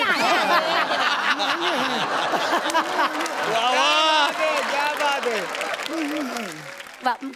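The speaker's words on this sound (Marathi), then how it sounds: "जोरदार टाळ्या" A studio audience at a Marathi comedy show claps and laughs together, applause mixed with bursts of chuckling and a few voices rising over it, fairly loud and continuous throughout.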